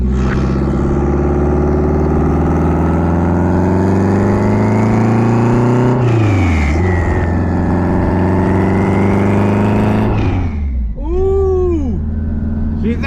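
A turbocharged K24 engine in a Honda EG hatchback drones loudly and steadily while cruising. The pitch rises and falls through gear changes, with a brief lift-off around the middle and a turbo whoosh flutter near the end.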